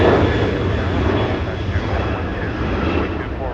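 WestJet Boeing 737 'Spirit of Canada' accelerating for takeoff at Los Angeles International Airport, a loud, close engine roar with low rumble that holds throughout.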